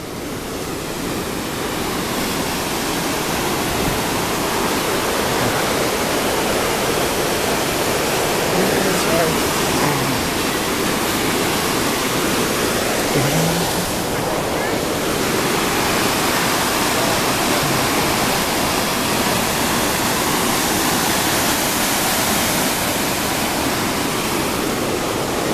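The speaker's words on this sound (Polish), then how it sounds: "A teraz jesteśmy nad wodospadem. Widać, słychać wodę." Waterfall at Johnston Canyon in the Canadian Rockies, a loud, steady, broadband roar of falling water filling the whole stretch close by, with voices faintly under it.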